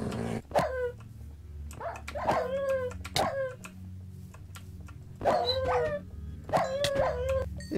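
Dogs in a video game bark and yelp in several loud, close bursts spread across the scene, with whining, howl-like cries over a low background hum.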